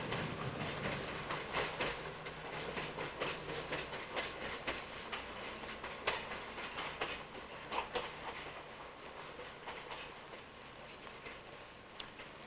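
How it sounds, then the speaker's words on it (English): A train rolling over tracks near a small trestle, a steady broadband rumble with rapid clickety-clack of wheels continuing throughout, fairly close and without talk. "Let's see if we can catch the train."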